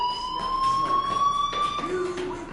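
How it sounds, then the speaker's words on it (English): A fire alarm rings inside the video game Life Is Strange, a steady electronic tone that holds and then drops in pitch toward the end, sounding continuous and fairly loud. "Hey, do you hear that fire alarm?"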